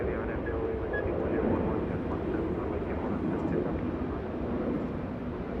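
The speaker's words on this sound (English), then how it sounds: "This is Speedbird 282. That's an A350, the 1000, the biggest of the A350s." A British Airways Airbus A350-1000 jet airliner at Los Angeles International Airport gives off a continuous low engine rumble and whine, fairly quiet and distant, beneath what sounds like faint radio or background voices.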